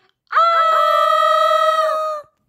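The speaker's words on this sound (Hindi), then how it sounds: "अरे तुम लोग क्यों चिल्ला रहे हो" A loud, sustained, high-pitched scream from children in a toy doll village scene about getting an injection, held steady for about two seconds and heard alone.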